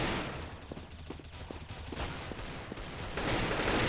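An M4 and an AK trade fire in a competitive shooter match: rapid sharp shots crack in short bursts over steady game ambience, ending in a louder swell of noise.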